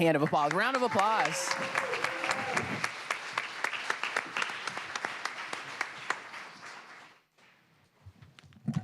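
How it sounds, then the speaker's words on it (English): Applause for a councilmember at a city council meeting, starting under a brief loudspeaker voice and then carrying on as steady, fairly close clapping that thins out and stops near the end. "Let's give her another round of applause"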